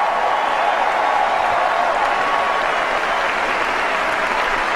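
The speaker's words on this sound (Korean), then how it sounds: "관중들의 많은 박수를 받고 있습니다." Crowd applause at Wimbledon during the 2007 women's semifinal as Marion Bartoli advances to the final against Justine Henin: dense, loud, continuous clapping from a large stadium audience, sustained evenly throughout.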